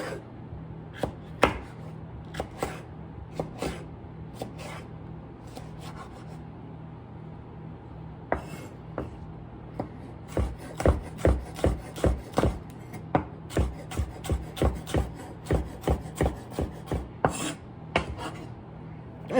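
Knife chopping a whole jalapeno on a cutting board, a run of sharp regular knocks that start sparse and become a steady rapid rhythm in the second half, close and clear with no talk.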